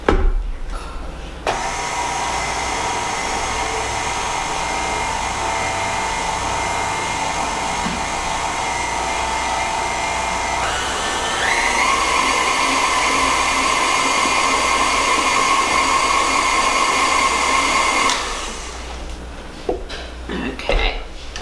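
An electric mixer runs steadily while mixing banana pudding into cake batter, holding one high whirring drone for about fifteen seconds, then rising a little in pitch and volume before it cuts off. A few clatters follow.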